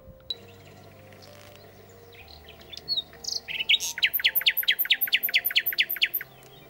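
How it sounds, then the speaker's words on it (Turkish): A nightingale sings a fast series of sharp, repeated whistling notes in a steady rhythm, fairly close and clear, after a quieter stretch with faint calls. "Bülbül sesleri her taraftan geliyordu"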